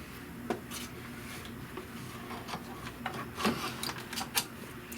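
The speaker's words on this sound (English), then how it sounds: "what's going to stitch next is going to be the tack down" An embroidery machine stitches the tack-down line on a trapunto pillow, a quiet, uneven patter of soft clicks and light thumps over a low mechanical hum.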